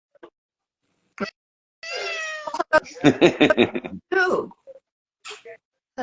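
A calico cat meows in a few separate calls, some drawn out into a wailing, moaning yowl and others short, close and clear against a quiet indoor background.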